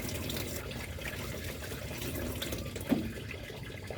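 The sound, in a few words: washing hands under running tap water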